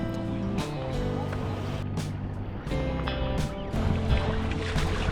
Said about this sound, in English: it was time again to continue paddling westwards